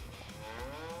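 Cows in Farming Simulator 25 low and moo in a continuous, steady drone with a faint rising tone, filling the moment without pause and no talk over it.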